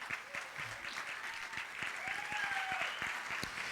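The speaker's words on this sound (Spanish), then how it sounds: "vamos a darles un aplauso para motivarles" Church audience applause, quiet and somewhat distant, with steady clapping and a few sharp individual claps, plus faint murmur beneath.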